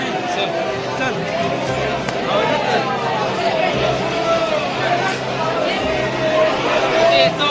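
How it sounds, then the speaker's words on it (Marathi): Dense crowd chatter inside Bhimashankar temple, an indoor babble of many voices with shuffling footsteps, continuous and close around the listener. "जास्त गर्दी आहे जरा."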